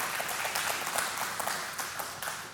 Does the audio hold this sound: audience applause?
yes